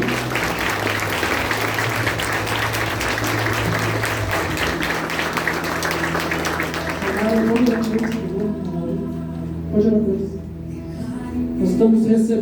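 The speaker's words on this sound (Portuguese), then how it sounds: "Você pode aplaudir o Senhor com alegria." A church congregation applauding joyfully, steady clapping mixed with voices and background music that thins out midway, leaving quieter speech and tones.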